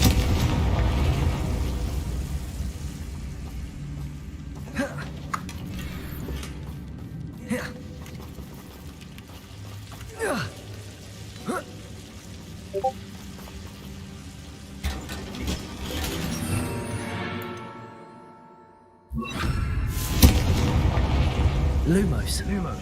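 Hogwarts Legacy gameplay with Confringo spell explosions: several short booms and blasts scattered over a rumbling game soundscape, with a near-silent gap before a loud final burst.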